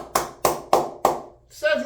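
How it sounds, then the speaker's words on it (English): Four slow, deliberate hand claps, close and crisp, evenly spaced, followed by a voice starting to talk. "round of applause to Cedric"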